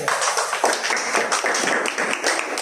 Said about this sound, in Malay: Oke guys, bagi tepukan guys.